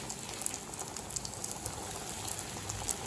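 Potato cheese nuggets deep frying in hot oil over a medium flame, a dense continuous close sizzle and crackle with no talking.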